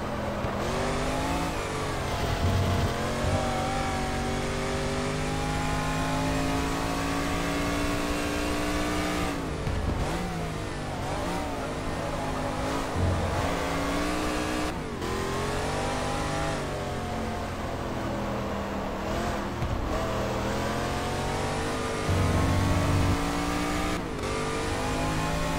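A De Tomaso Pantera racing in GT Legends, its engine droning and revving steadily through rising and falling gear changes for the whole stretch, loud and close, with occasional tire squeal and no talk.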